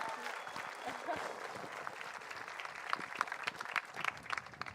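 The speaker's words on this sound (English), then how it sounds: "Let's give a big round of applause to Renee" An audience at the Formula Student team's DUT24 car roll-out event claps in steady, continuous applause for several seconds, with a few voices mixed into the crowd noise.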